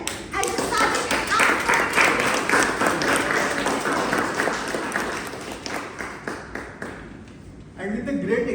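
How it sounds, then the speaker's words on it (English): Audience applause for the Toastmaster at a Toastmasters club milestone meeting, a dense run of clapping hands lasting several seconds, fading briefly near the end before picking up again, with some voices mixed in. "Let's applause for the Toastmaster Narayan as the sergeant at"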